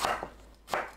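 A knife slices through eggplant on a cutting board, giving two distinct crisp cuts about half a second apart against a quiet background.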